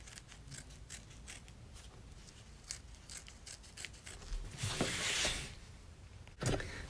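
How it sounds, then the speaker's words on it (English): Scissors snip through fabric batting for an in-the-hoop appliqué bag, giving a run of quiet, rhythmic close cuts with a brief rustle of material near the end. "Now I'm going to trim it."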